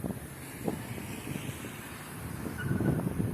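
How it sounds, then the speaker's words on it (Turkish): Strong wind buffets the microphone in low, rumbling gusts that swell and fade, growing heavier toward the end. "Rüzgar götürüyor çünkü aşırı rüzgar var."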